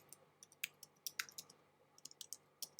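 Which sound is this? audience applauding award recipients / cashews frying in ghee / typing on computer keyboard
typing on computer keyboard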